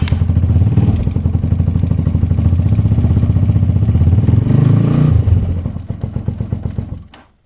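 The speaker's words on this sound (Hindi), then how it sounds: "हाफ सेल्फ ही दिया और इसने ज़बरदस्त इसने ठंडे इंजन को इसने वीआईपी तरीके से स्टार्ट किया" A motorcycle with a cold engine, electric self-started on a lithium battery, runs loud and close with a steady rapid thudding idle for several seconds before dying away at the end.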